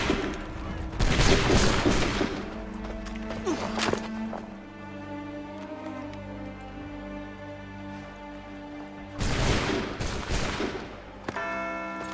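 A musket volley rings out in Assassin's Creed 3, a dense crackling burst of many shots at the start and another near the end, with ringing metallic tones and voices in between.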